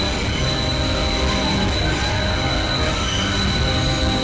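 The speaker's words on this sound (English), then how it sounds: "The whole train began to slow down more." Steady, continuous screech of steel wheels squealing on rails as a train slows, loud and unbroken throughout with a low rumbling underneath.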